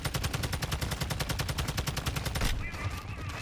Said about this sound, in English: Stop missing your shots, Fix.